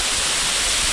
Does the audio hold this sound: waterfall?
yes